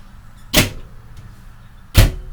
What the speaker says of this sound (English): Doesn't hinder the door closing.